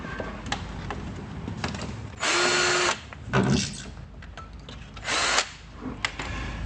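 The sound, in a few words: power drill drilling holes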